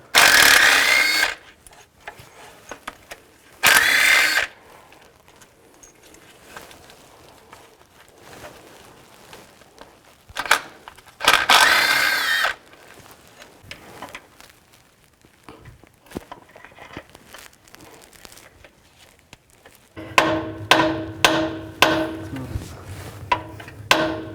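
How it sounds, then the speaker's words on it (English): A 10mm socket on a ratchet or power tool loosening water pump bolts on a Ford E-250, several short bursts of loud whirring separated by quiet shuffling and handling, ending in rapid rattling clicks. "Now we'll take the bolts out of the water pump. Use a 10mm socket."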